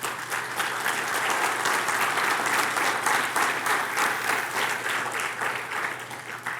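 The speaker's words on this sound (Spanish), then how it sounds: "dale un aplauso al Señor" A church congregation breaks into sustained, dense applause during a sermon, a loud, even wash of many hands clapping that holds steady throughout with faint crowd voices underneath.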